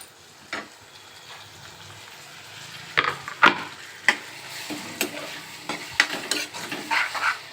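Tomatoes tipped into a frying pan of cluster bean curry and stirred, giving soft scraping stirs and light sizzling with irregular clicks of the spoon against the pan, close and moderately quiet.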